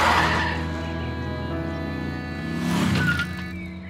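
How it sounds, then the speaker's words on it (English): Mr. Fox's cartoon car speeds off in a hurry with a loud screeching burst of tires, then a steady, tonal engine whine that swells again near the end, close and continuous with no talking. "put his toolbox in his car, then he drove off in a hurry"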